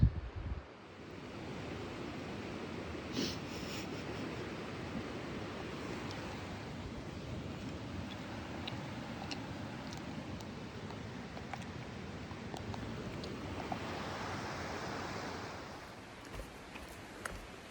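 A creek flows at a Pacific Crest Trail crossing in Washington as a steady, broad, close rushing wash, continuous for the whole stretch with slight swells and a faint bump at the start.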